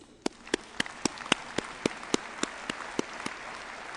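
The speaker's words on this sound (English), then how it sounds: "Let's give them an applause." About a dozen sharp, evenly spaced claps ring out one after another over a faint steady hiss, a single pair of hands clapping rather than a crowd, at a CITES CoP17 conference opening ceremony.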